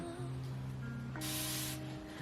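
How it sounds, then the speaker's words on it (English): A hair product spray is released in one close, steady hiss lasting about half a second, over a humming room background. "I'm going to spray this."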